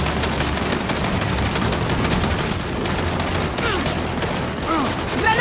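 Turret gunfire rattles continuously in Gears of War 5, a dense and loud stream of rapid shots layered with other battle noise and mechanical clatter.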